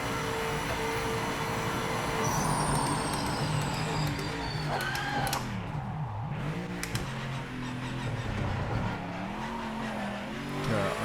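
A BMW GTE race car laps Spa-Francorchamps in Project Motor Racing, its loud engine howling at full speed, then dropping through downshifts under braking and rising again, with some tire noise, close and continuous.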